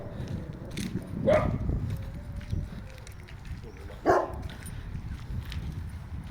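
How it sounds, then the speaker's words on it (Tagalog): Dogs bark outdoors in the Czech Republic, two separate sharp barks a few seconds apart, fairly faint over a steady low background rumble. "Daming aso dito guys."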